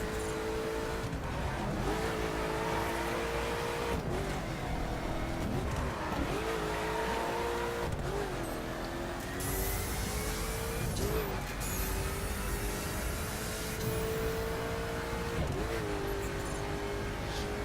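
A Koenigsegg Agera R driving in the racing video game The Crew, its engine droning steadily with rising and falling pitch through gear changes and faint tire noise, loud and continuous without talk.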